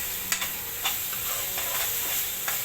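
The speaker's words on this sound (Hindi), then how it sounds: "देखिए मसाला भुन चुका है।" Masala of coriander powder, turmeric, chilli and garam masala frying in oil in a pan, a steady close sizzle with occasional clicks of stirring, no talking.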